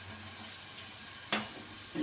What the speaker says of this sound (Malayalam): എണ്ണയിൽ ഇട്ട് വെച്ചേക്കണം അച്ചപ്പം ഇങ്ങനെ കിട്ടാൻ വേണ്ടിയിട്ട്.